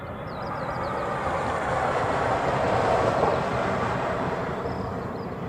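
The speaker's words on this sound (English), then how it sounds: "it's a 757. It's taxiing down to the Reef Runway" Boeing 757 jet taxiing toward the reef runway at an airport, a broad steady rumble and engine roar at moderate distance, swelling slightly midway.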